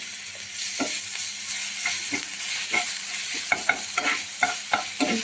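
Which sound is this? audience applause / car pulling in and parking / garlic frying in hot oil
garlic frying in hot oil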